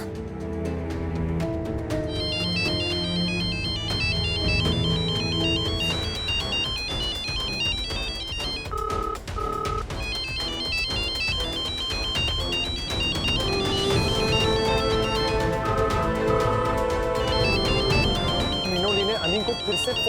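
A mobile phone plays its melodic ringtone continuously, a repeating bright tune ringing unanswered without pause.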